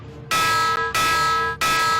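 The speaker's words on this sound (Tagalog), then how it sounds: "patunugin ang mga batingaw o alarm para bigyang babala ang mga residente" A loud bell rings in three sharp, sustained strikes, each bright metallic tone ringing out before the next hit.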